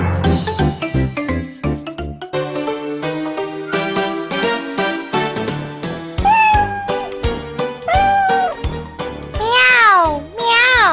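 A cartoon cat meows several times in a children's Bremen Town Musicians story, clear high gliding cries over bright music, ending in a longer wavering meow.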